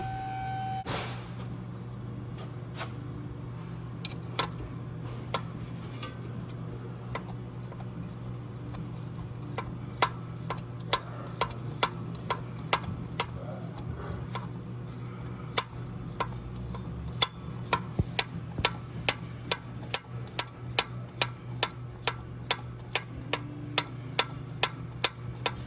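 A ratchet turning a 14mm bolt off the engine mount bracket of a Honda 3.5L J35 engine, heard as sharp rhythmic clicks that start sparse, then become fast, steady runs over a constant low hum.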